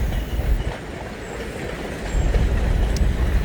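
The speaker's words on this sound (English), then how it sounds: "BNSF Railway over the Missouri River right here in Oklahoma, South Dakota." A BNSF Railway train crosses a bridge over the Missouri River in South Dakota, its cars rumbling steadily with a heavy low roar and faint clickety-clack of wheels, moderately close and continuous with no talk.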